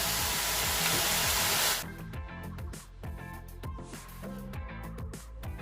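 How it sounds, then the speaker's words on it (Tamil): Beetroot and carrot pakoda deep-frying in hot oil, a loud dense hiss that cuts to a quieter crackling bubble partway through, with no talk over it. "இது நல்லா பொன்னிறமாக ஆகிற வரைக்கும் நம்ம ஃப்ரை பண்ணி எடுத்துக்கலாம்."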